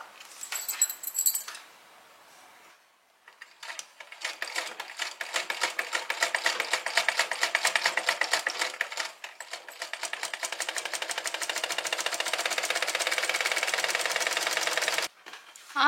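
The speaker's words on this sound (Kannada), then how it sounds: "ಈಗ ಇಲ್ಲಿ 2 ಸೇರಿ ಸ್ಟಿಚ್ ಮಾಡ್ತೀನಿ." A sewing machine stitches a lehenga border onto fabric in long, rapid, rhythmic bursts with brief pauses between runs, close and clear with no talking.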